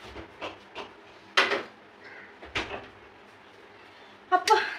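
A few sharp clunks and thuds, like a refrigerator door being pulled open and pushed shut, separated by quiet pauses with faint background noise.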